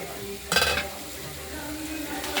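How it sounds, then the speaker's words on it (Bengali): Curry vegetables with ground spice paste sautéing in a pan for a koi fish curry with potato and beans, a soft frying hiss with a brief louder scrape of stirring near the start, otherwise steady and low. "তরকারিগুলো কষানো হয়ে গেছে"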